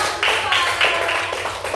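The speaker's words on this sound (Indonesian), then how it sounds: "Ayo tepuk tangan untuk kelompok 2." A school class claps for group 2 with a short burst of quick, close applause, mixed with chatter.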